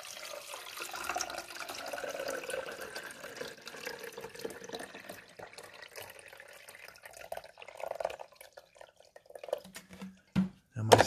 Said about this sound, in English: But you're going to dump the vinegar.